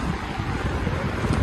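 Strong wind buffets the microphone in snowy Otaru, Japan, a loud steady roar with gusty low rumbling that fills the whole moment, no voices present.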